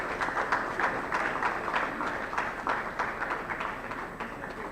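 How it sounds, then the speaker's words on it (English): A conference audience applauds a speaker introduced to talk on AI and blockchain deployment for small businesses in Africa, steady dense clapping filling the whole stretch at moderate level without any voice over it. "Please give me a round of applause."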